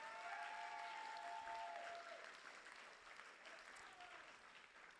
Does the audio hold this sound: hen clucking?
no